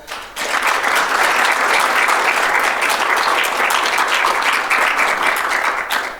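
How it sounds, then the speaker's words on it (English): Audience applause for conference panelists after a discussion on digital legislation, a steady dense wash of clapping that rises sharply and sustains for several seconds, then tapers slightly at the end. "Please give them a round of applause."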